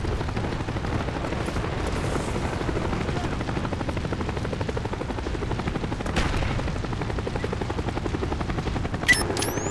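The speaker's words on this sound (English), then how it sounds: "Enemy Cobra headed your way." Enemy Cobra attack helicopter in Call of Duty: Black Ops on the Radiation map, a steady loud rotor thrum running throughout with bursts of gunfire and game effects mixed in.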